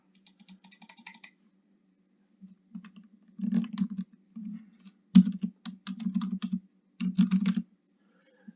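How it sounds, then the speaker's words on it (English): Computer keyboard typing comes in quiet, close bursts of rapid key clicks with short pauses between them, and no voices. "No, you're not going to let me type?"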